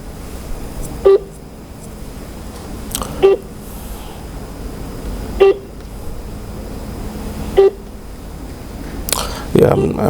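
Repeated short electronic phone tones from a call that fails to connect, evenly spaced beeps about two seconds apart, moderately loud over a hushed, rustling background.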